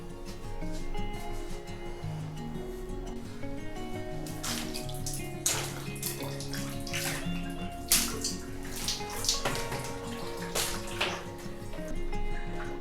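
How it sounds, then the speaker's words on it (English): Water poured over a bathroom sink in poor condition before cleaning, a continuous splashing wash with several sharper bursts and drips, fairly close and steady, with no talking. "I poured some water over the sink"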